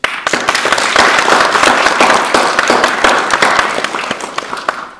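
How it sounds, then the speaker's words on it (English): Lecture audience applauding to welcome a professor speaking on global politics and China, a dense, steady wash of many hands clapping that fills the room, then thins and fades toward the end. "please join me in a warm round of applause and welcome to Bill Hurst"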